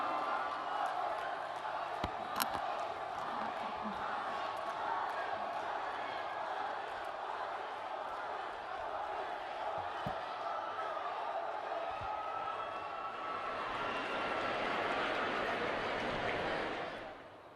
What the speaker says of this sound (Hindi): और एक बार जोरदार तालियां माननीय प्रधानमंत्री जी के स्वागत में